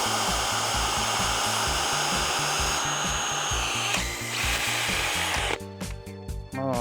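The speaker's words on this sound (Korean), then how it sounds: "이제 6mm 비트를 장착을 했고 796, 996 두 번씩 뚫고 바꿔서 두 번씩 뚫어보도록 하겠습니다." Dewalt DCD796 and DCD996 hammer drills boring with a 6mm bit: a loud, steady high-pitched motor whine with rapid hammering pulses throughout, shifting in pitch near the end as the drill changes.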